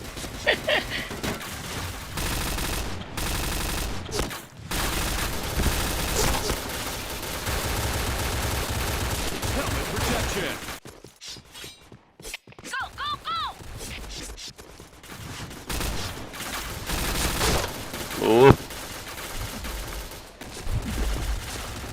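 Rapid bursts of gunfire from the shooter game Point Blank rattle through long stretches, with a short lull midway before shots resume, all loud and close, while someone talks over the action.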